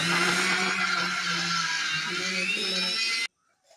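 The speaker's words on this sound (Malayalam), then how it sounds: "മിക്സിയിലിട്ട് നന്നായി അടിച്ചെടുക്കുക" A mixer grinder blending breakfast batter whirs loudly and steadily for a few seconds before cutting off abruptly, with a voice faintly underneath.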